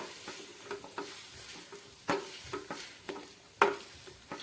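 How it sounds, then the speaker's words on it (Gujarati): A wooden masher crushes boiled potatoes mixed with filling for samosas, giving a loose rhythm of soft thuds and squelchy knocks, a few sharper, close and moderately quiet, with no one speaking. "જેથી કરી આપણા બટેટા પણ સારી રીતે ક્રશ થઈ જશે"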